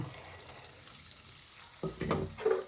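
Wet salted chickpeas go into hot oil in a pan, first a soft stirring rustle, then sizzling and popping that rises sharply near the end, close and fairly loud.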